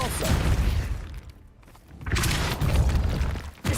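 Depulso repelling spell cast in the video game Hogwarts Legacy, a loud booming thud with a dense burst of impact noise, a brief quieter gap, then another heavy rumbling blast ending in a sharp hit.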